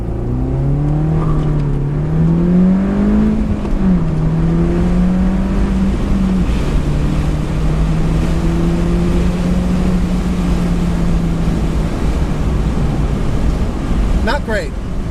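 A 2013 MINI Cooper S Roadster accelerates hard from a standstill toward 60 mph, its engine note climbing through rising pitches with gear-change dips, heard from inside over heavy wind rush.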